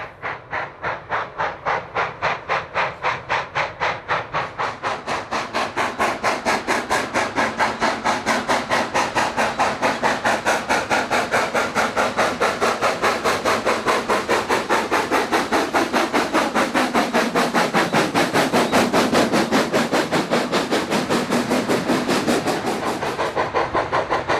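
A steam locomotive works hard along the railway, its rapid, regular chuffs beating loud and close with a hissing wash and no talk throughout.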